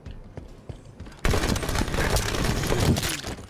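Scattershot weapon firing in Halo 5, a loud dense blast that opens suddenly and sustains a crackling barrage of shots for a few seconds after quieter game sounds.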